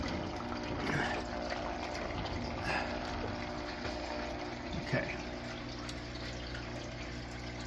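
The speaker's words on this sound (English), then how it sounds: "the extra water in the lines will come down, and this will fill up a little higher" Water drains steadily through the plumbing lines of a 90-gallon coral reef aquarium, a constant rushing, gurgling flow with a pump hum beneath, and a brief spoken word partway through.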